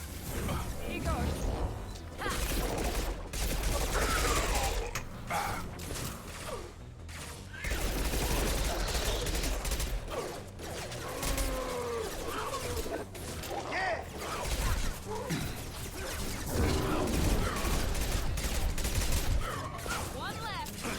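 Heavy weapon fire in the Mass Effect 2 video game, dense repeated blasts and bursts with mechanical clanks and whooshes, loud and close throughout, mixed with game voices and effects.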